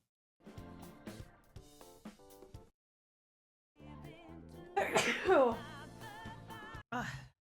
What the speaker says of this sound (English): I'm gonna have to sneeze soon.